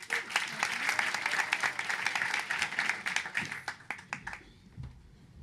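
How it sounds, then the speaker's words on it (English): Audience applause at a startup pitch night in The Hague: many hands clap in a lively, crisp patter with individual claps standing out, then thinning to scattered last claps before tapering off. "Please give her a round of applause"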